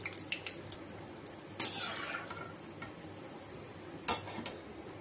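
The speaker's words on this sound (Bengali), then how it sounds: "তেলটা গরম হয়ে গেছে, এবার আমি ছেড়ে দিলাম বার্গারটাকে" A burger patty goes into hot oil in a home kitchen, giving a soft, faint sizzle. A few sharp clinks and scrapes of utensils against the pan break in at intervals.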